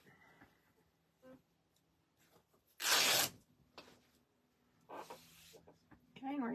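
Fabric being torn by hand into strips for a pumpkin garland craft, one loud ripping burst followed by a shorter softer tear, with faint handling noises between.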